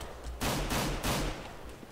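Gunfire in Counter-Strike: Global Offensive comes in loud, dense bursts of rapid shots separated by short pauses, close and harsh with nothing else audible.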